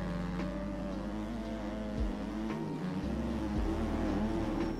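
Kawasaki 250 dirt bike engine in the MX Bikes motocross game, a loud, steady buzzing drone that dips briefly around gear shifts and then climbs again, with no talking over it.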